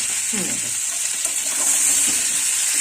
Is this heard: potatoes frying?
yes